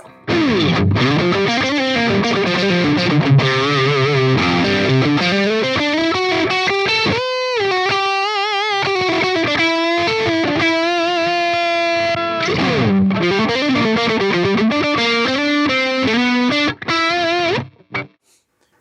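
Heavily distorted electric guitar through a Line 6 Helix metal/djent preset with a cab model and a simulated 20 dynamic mic, playing sustained riffs and bends loudly and continuously, with a brief break midway and no talk.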